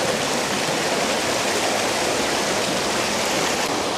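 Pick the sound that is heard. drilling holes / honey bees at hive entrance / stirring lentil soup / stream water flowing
stream water flowing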